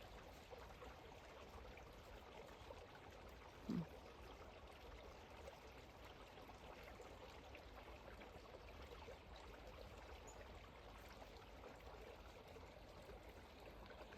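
A stream with water running beside lingering snow, a steady, soft, distant rush with one brief faint knock partway through and no voices.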